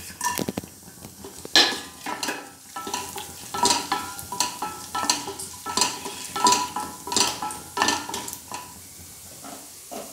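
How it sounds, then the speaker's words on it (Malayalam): Raisins fry in a pan for urad dal payasam, with a soft sizzle under repeated clinks and scrapes of a stirring spoon against the pan, no talking. "അടുത്ത് നമുക്ക് നമ്മളെ മുന്തിരി ഇട്ട് കൊടുക്കാം."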